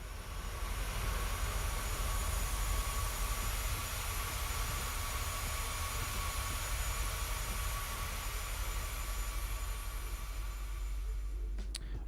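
A steady, even jet roar from a simulated Boeing 737-800 on a low flyby, a broad continuous hum that holds at constant level throughout, moderately faint with no talk.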